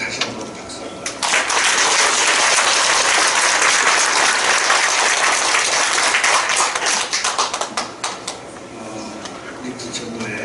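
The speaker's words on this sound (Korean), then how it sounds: "우리 지휘자님과 우리 찬양대 다시 한번 박수 한번" A church congregation applauds its conductor and choir at a dedication and ordination thanksgiving service, with clapping that swells in after about a second, holds strong, then thins out toward the end.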